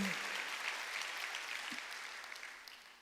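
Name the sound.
applause in church congregation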